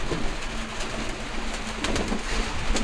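Several tame pigeons coo softly and repeatedly over a steady hiss of background noise, murmuring close by without any talking.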